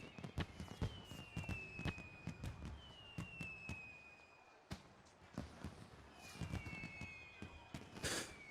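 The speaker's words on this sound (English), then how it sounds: "fireworks." Fireworks burst in a Final Fantasy XIV festival scene, with rapid sharp cracks and pops, whistling rising streaks and scattered crackle, repeating through the stretch at moderate distance over soft background ambience.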